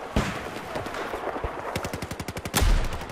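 Machine gun fire in the Battlefield 4 multiplayer game on PC, a close, rapid rattle of evenly spaced shots in a quick burst, with heavier blasts at either end.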